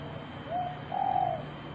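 A recorded dove call from a bird caller speaker: soft, low cooing phrases repeated twice over a constant background hum, moderately near and alone, with no talking.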